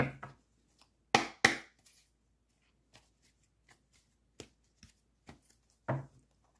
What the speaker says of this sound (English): Let's clarify with a shuffle tarot.